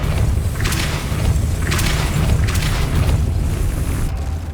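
A Depulso spell cast in Hogwarts Legacy booms out as a loud, sustained low rumble with a few brief bursts layered on top, filling the whole stretch without any talking.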